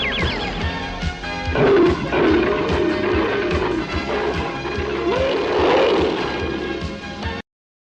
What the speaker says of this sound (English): Battle Cat roaring